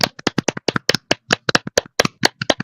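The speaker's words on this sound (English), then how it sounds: "Big round of applause." Online panel audience applause: a steady series of distinct, close hand claps, fairly loud and slightly uneven in rhythm, from what sounds like one or a few people clapping for under three seconds with no talk.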